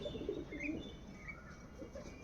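Soft, low cooing from a white pigeon kept for sale, a few faint murmuring coos close by in a quiet space.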